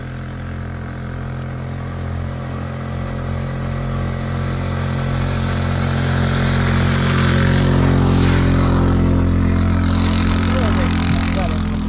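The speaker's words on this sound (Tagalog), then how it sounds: "Parating na motor oh." A motorcycle's engine drones steadily and grows gradually louder as it approaches along a rural provincial road near a river, with faint voices in the background.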